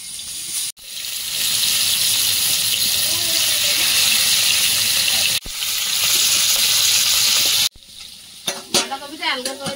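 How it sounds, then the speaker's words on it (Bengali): Bhetki fish frying in oil in a frying pan makes a loud, close, steady sizzle broken by two brief cuts. The hiss drops away near the end, where a voice speaks. "মাছ ভাজতে শুরু করে দেব। ফ্রাই প্যানে তেল দিয়ে দেব।"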